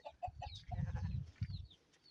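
Chickens cluck softly nearby, short repeated clucks over a low murmur of farmyard noise, fairly quiet overall.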